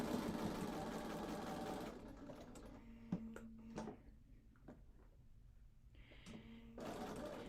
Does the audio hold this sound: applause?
no